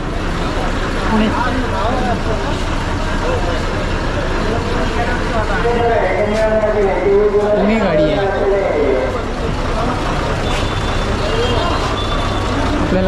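A bus engine rumbles steadily at a busy bus stand, with passing vehicle noise and air-brake hiss mixed in, while people talk close by.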